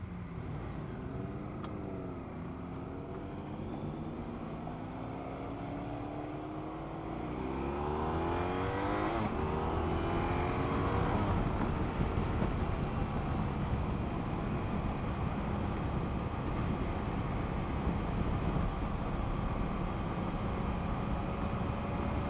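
A BMW F800GS motorcycle ridden on the road, its engine droning steadily and rising in pitch as it accelerates, then holding at a louder level, with wind rush up close throughout.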